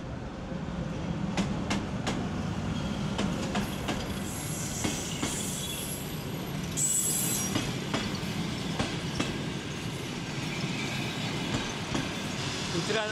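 A passenger train at a station in Uzbekistan, on the line from Andijan, rumbles steadily with repeated clicks and clanks of the cars and brief high metallic squeals, heard at moderate level with no speech.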